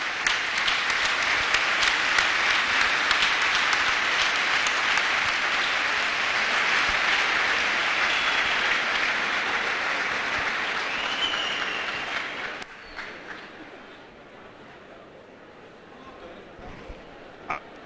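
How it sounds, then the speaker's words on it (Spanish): Audience applause at an architecture event fills the room with steady, loud clapping for about twelve seconds, then thins out into scattered claps and quiet murmuring. "pido de vuelta otro aplauso, por favor."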